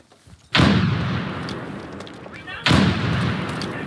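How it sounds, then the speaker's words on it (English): Two heavy frag grenade blasts in the America's Army shooter game, the first at about half a second and the second around 2.7 seconds, each a loud booming burst that trails off into a long rumbling decay. "Tossing frag."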